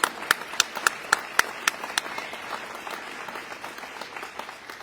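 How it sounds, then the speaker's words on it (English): An audience at a Virginia state event applauds steadily, a scattered patter of hands with a few sharper, louder claps standing out in a regular beat. "Round of applause for both of them, for their leadership,"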